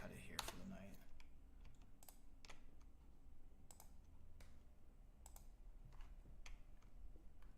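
Typing a search on a computer keyboard: quiet, close, irregular clicks of keys in short bursts over a faint background hum.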